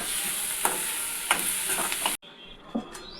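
Bitter gourd curry being stirred in a pan, spoon scraping with soft sizzling in a few distinct strokes, then a brief drop to near silence before one more faint scrape.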